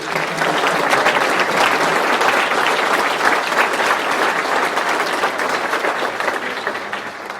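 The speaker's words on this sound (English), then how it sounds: "give them one last round of applause" A Rotary Luncheon audience applauds in a sustained, dense burst of clapping that stays loud and even for several seconds before easing slightly at the end.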